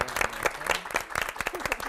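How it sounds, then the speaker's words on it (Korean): Applause from a studio audience at a televised psychology lecture-concert, a lively burst of clapping with some crowd noise, fairly close and steady over the short span. "박수를"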